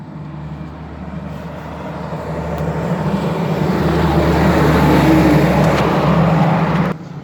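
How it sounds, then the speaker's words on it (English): A 2009 Kenworth W900 truck drives eastbound past on a road in Blue Lake, California, its engine roar swelling steadily as it nears and cutting off sharply at the end. "that truck coming eastbound at 2009 Kenworth"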